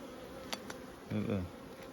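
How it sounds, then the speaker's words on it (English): Honey bees hum at an open hive in a low, close buzz, broken by two sharp clicks and then a brief murmur that sounds like a voice. "Now these are proper sticky bees"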